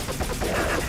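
A TMP submachine gun fires a rapid continuous burst in Resident Evil 4, a dense rattling stream of shots, loud and close, with no pause.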